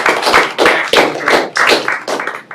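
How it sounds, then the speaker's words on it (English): A small audience at a university tech talk on guidance, navigation and control gives brief, sparse applause, with a few close, distinct claps in a loose rhythm. "Round of applause."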